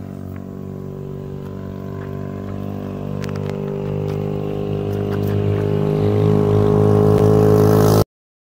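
Honda Ruckus scooter engine while riding, a loud, steady close drone with a buzzy tone that climbs gradually in pitch as it accelerates, then cuts off abruptly.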